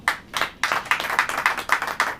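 Church congregation clapping during a Hindi sermon, a short burst of several uneven hand claps in quick succession, close and moderately loud, with no voice over it.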